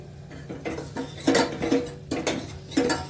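A spoon stirs turmeric, chili, sambhar masala, salt and gravy in a metal pot for vada sambhar, giving several close clinks and scrapes in an uneven rhythm with no talking.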